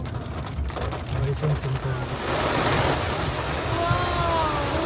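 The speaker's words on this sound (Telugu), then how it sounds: "ఎంత పెద్ద వర్షం పడుతుంది" Heavy rain pours down during a drive through forest on the Ooty to Bangalore road, a dense, steady hiss that swells after a couple of seconds, with voices talking beneath it.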